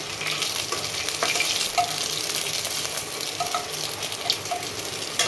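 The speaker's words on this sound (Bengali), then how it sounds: "প্রথমে শুকনো লঙ্কা দিচ্ছি, জিরে ফোড়ন, একটু গোটা গরম মশলা" Dried chillies, cumin and whole garam masala fry in hot oil, a steady close crackling sizzle with scattered sharp pops over the full stretch, no one speaking.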